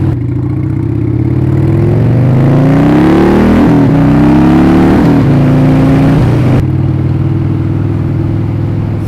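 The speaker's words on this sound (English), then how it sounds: "now that I got my engine warmed up" A 1998 Harley-Davidson XL1200C motorcycle engine idles loudly up close while warming up, then revs up and down several times before settling back into a steady idle.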